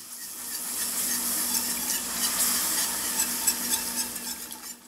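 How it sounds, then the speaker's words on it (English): A whisk stirs milk, added a little at a time, into a roux in a pan, making a steady wet swishing hiss with small splashy clicks that grow more uneven toward the end. "Now keep whisking and adding a little bit of milk at a time."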